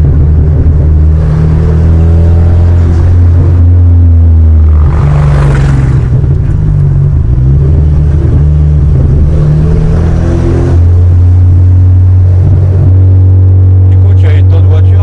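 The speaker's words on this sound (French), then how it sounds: "La musique se fait avec la mélodie du moteur et de l'échappement." A European car built in the American style, with its engine and exhaust droning loud and low, the pitch swelling and easing as the revs rise and fall over the whole stretch.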